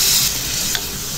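A spoon stirs mushroom masala after water has gone into the pan, a soft wet scraping with a light sizzle, close and steady, one brief clink near the middle.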